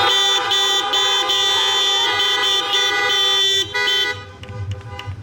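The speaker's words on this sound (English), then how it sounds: "clap your hands and honk your horns" Several car horns honk together at an outdoor drive-in church service, a loud, sustained chorus of overlapping toots that drops away near the end.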